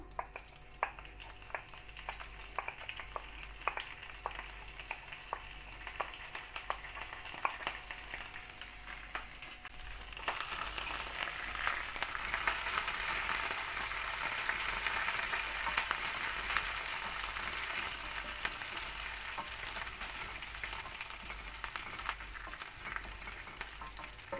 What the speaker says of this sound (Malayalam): ഇനി ഈ ചൂടായ എണ്ണയിലേക്ക് കറിവേപ്പില, പച്ചമുളക്, ഉണക്കമുളക് ഇവയൊക്കെ ചേർത്ത് കൊടുക്കാം.